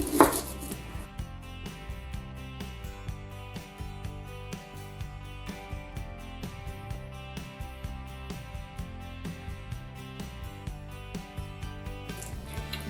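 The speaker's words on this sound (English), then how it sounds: "Chop one little shallot." A knife chops a shallot on a board in quick, even strokes, the close rhythmic taps running steadily from start to finish over quiet background music.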